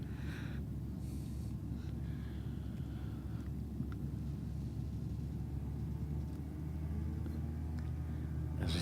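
An RX race car passing at a roll racing event, a steady low engine rumble and road roar holding near, then swelling slightly toward the end as the car comes through.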